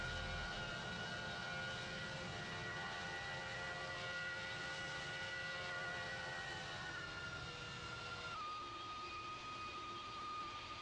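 A video-game airplane in Roblox makes its final approach to a runway with landing gear out: a steady, loud engine drone with tonal whine that continues throughout, its pitch dropping slightly near the end, with no talk.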